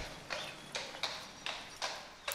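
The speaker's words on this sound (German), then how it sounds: "Oh, Pferdchen!" Hooves of a horse clip-clop in The Last Door game, a slow run of about five separate hard taps at an even walking pace, close and fairly quiet against a faint background.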